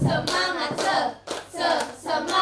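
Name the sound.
group clapping a rhythmic tepuk semangat pattern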